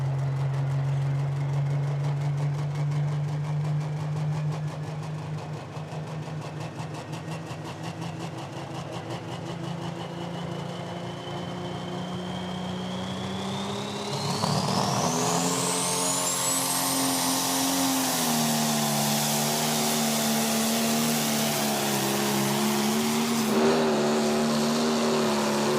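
A pulling tractor powered by a John Deere 466 engine of 8.3 liters and over 2,500 horsepower idles with a droning rumble, then revs hard into a rising, screaming whine that holds loud and close as the run gets going.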